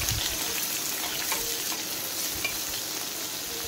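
Onions frying in hot oil with a steady, dense sizzle and crackle throughout, close and fairly loud, with occasional soft stirring sounds and no voices.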